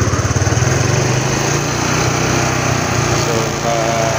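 A Honda XRM 125 motorcycle engine held under throttle, a steady buzzing drone with a slight pulsing flutter at the start, close and continuous throughout.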